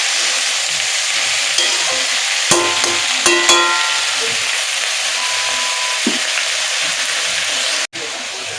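Malabar spinach fries in a pan with a loud, steady sizzle, broken by a few sharp clinks and scrapes as it is stirred.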